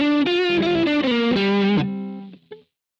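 Single-coil pickup of an HSS guitar through a Boss GT-100 with distortion: a sustained, heavily driven melodic line of several bending notes, then a held note fading out and a brief final pluck.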